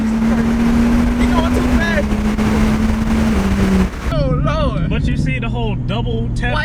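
Tuned BMW 135i engine held at a steady, loud drone during a fake launch-control attempt, then dropping back as people begin talking over it with excited voices.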